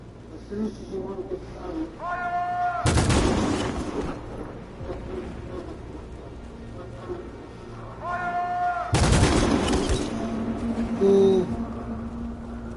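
Gunfire in a PS4 video game comes as two loud, sustained bursts of rapid shooting, each lasting about a second or more and separated by several seconds of quieter ambience, with tonal game effects before each burst.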